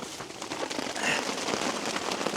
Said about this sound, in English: there is gonna be rain.